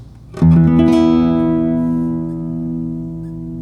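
Several bell-like guitar harmonics chime on open strings in quick succession, then ring together and slowly fade, loud and close with no talking.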